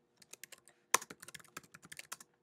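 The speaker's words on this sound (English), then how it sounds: "So anything I want to remember for that particular day of instruction, I would type here." Close, quiet typing on a computer keyboard while entering instruction notes, a quick irregular patter of soft key clicks with one sharper tap near the start.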